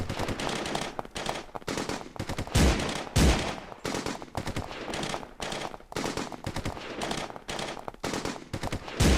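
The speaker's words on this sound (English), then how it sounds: "Looks like the bullets are just flying through people now." Captain Cold's gunfire in the video game Crisis on Earth One, dense rapid bursts of shots firing continuously and loudly close up, with brief gaps and heavier booming hits along the way.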